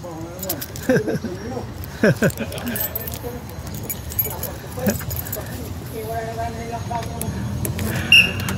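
Keys jangle loosely in a hand with short metallic clinks scattered across the clip, while people talk nearby and street traffic hums in the background.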